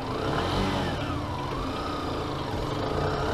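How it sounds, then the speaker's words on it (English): A motorcycle engine hums steadily while a learner rider finds the clutch biting point, the revs rising gently and falling in a continuous mid-pitched drone with no voices. "open the revs a little bit."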